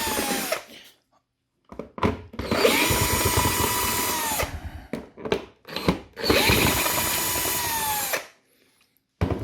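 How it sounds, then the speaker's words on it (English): A screwdriver backs screws out of the box of a 2020 Ford Mustang Shelby GT500 1:18 model car, whirring in several sustained close bursts separated by short silences. "now I can see there are 3 screws which I will need to remove"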